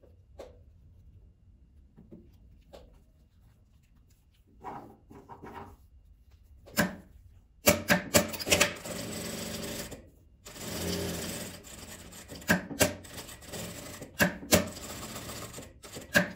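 Sewing machine stitching a thermal kitchen glove, quiet at first with a few faint taps, then loud bursts of rapid mechanical stitching that stop and restart several times, close by.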